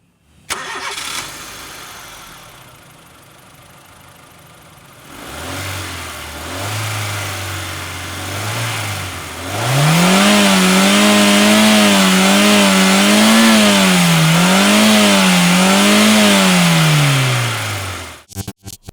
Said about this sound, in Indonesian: Kita nyalain mesinnya. Ini mesinnya masih halus banget.